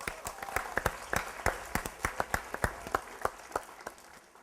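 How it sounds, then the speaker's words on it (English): An audience claps for speech contest contestants at a humorous speech contest final; sparse, distinct hand claps ring out in an uneven rhythm from a modest crowd, fairly light and thinning toward the end, with no voices. "Round of applause for the contestants."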